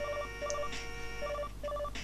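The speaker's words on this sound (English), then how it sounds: "The phone is ringing." A ringing telephone in the video game Mega Man 9 sounds as short, repeating bursts of electronic two-tone beeps, grouped in a steady rhythm, clear and alone.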